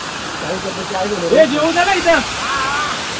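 A waterfall on the Bhimashankar trek gives a steady broad rushing hiss, with a person talking over it near the microphone.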